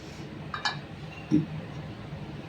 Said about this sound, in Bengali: এবার আমি ঢাকনাটা তুলে নিচ্ছি